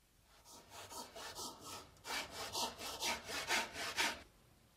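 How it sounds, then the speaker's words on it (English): A hand saw cuts through wood with a steady back-and-forth rasp, about a dozen close, even strokes that build from lighter starting strokes to fuller ones, heard alone without talk. "Use the base of the saw when you first start sawing, followed by the entire saw."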